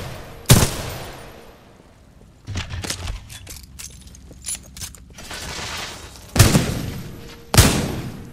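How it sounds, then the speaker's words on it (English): A semi-automatic pistol firing in the video game Titanfall 2, a few sharp, loud single shots spaced seconds apart, with mechanical clicks and softer handling noises in between. "that's like a semi-automatic pistol"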